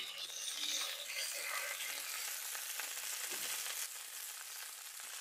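Spice paste ground on a grinding stone fries in a pan for a restaurant-style egg curry, giving a continuous bright sizzle with crackling and scraping stirs, fairly faint and steady, easing slightly near the end.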